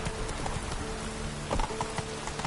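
Roach, a horse in The Witcher 3, clip-clops along with a few scattered hoof strikes over steady rain-like ambience; the steps are soft and irregular, with one louder cluster midway.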